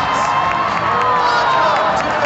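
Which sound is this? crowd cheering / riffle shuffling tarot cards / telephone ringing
crowd cheering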